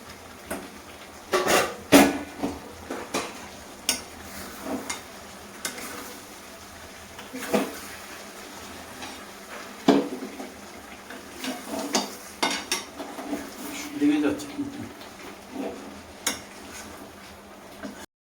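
A curry mixture with potatoes being stir-fried in a pan, giving quiet scraping and clinking strokes at an uneven pace over a low, steady hiss.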